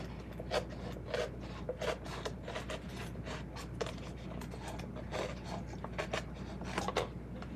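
Knife blade scraping and cutting through a styrofoam cup sculpture, a steady close rasping with repeated short strokes and squeaky rubbing bursts, no talk.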